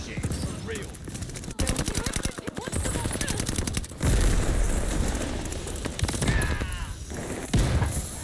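M1928 submachine gun in Call of Duty Vanguard firing in rapid sustained bursts, loud dense rattling volleys with booming explosions mixed in and brief pauses between bursts.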